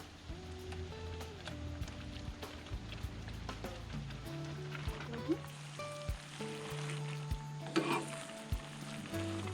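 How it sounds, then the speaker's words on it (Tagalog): Carbonara sauce sizzles and bubbles in a pan as pasta is added and stirred, a steady crackle with scattered clinks and scraping, faint tonal background sounds underneath. "Luto na yung ating sauce. Lalagay ko na itong pasta."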